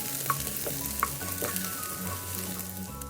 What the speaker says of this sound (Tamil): கடுகு, கருவேப்பிலை தாளிச்சிட்டு அப்புறமா இந்த வெங்காயம், பச்சை மிளகா கூட போட்டு நல்லா வதக்கிக்கோங்க.